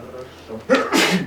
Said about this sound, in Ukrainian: Будь здоровы